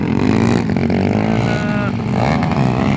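Motocross motorcycles racing in a final heat at an MX event in San Antonio, Santa Maria, Davao Occidental, engines droning loudly and continuously under an excited announcer's voice.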